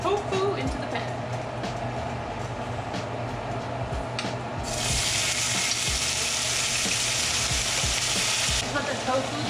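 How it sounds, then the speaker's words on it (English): Tofu sears in olive oil in a pan, a steady close sizzle with scattered clatter that swells into a louder, brighter hiss midway as the tofu hits the oil, then eases near the end. "we're gonna go ahead and throw the tofu into the pan."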